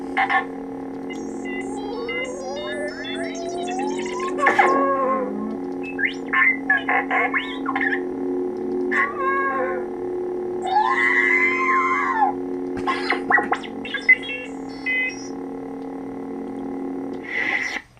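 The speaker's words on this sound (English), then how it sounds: "to get a force sound you double click the power button" A Proffie lightsaber's force sound effect: warbling electronic droid beeps and chirps over a steady humming tone, with swooping whistles and bursts of processed squeals, continuous and moderately loud.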